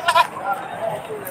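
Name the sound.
native goat bleating at livestock market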